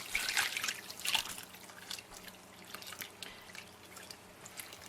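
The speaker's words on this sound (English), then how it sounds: "we're going to take cold water and just pour it on top of the cucumbers" Cold water poured over cucumbers in a kitchen while making sweet relish, heard as close, bright splashing and dripping that comes in uneven bursts, strongest early on, then thinning to scattered drips.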